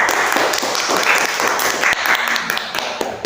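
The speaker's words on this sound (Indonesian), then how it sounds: "Mari kita beri tepuk tangan kepada mereka." A classroom audience applauds a student group's presentation, loud scattered clapping with a few sharp individual claps standing out, tapering off slightly toward the end.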